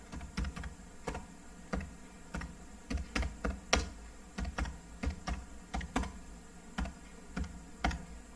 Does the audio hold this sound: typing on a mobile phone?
yes